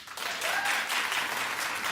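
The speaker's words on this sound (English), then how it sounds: "clap if you saw it" A television talk-show studio audience breaks into applause, a dense, close burst of many hands clapping at once that holds steady throughout.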